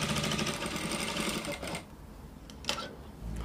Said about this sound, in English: I will take to the sewing machine now